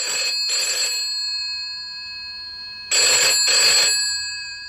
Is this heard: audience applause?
no